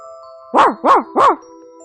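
A dog barks three times in quick, even succession, loud and close, over a faint steady background tone, with no talking.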